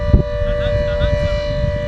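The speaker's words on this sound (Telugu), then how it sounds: "సైరన్ మోగుతుంది ఎందుకో మరి" A bike's siren holds a steady, sustained tone throughout, with a single dull thump near the start.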